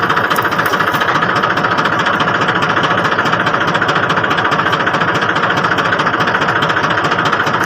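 A tractor engine chugs steadily at close range, a constant loud diesel knock with rapid even pulses and no pause or talking over it.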